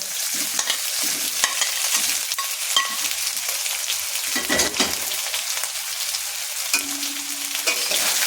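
Fried potatoes being stirred with spices and sugar in a hot pan for a vegetarian cabbage ghonto, producing a close, steady sizzle broken by repeated scraping strokes of the spoon.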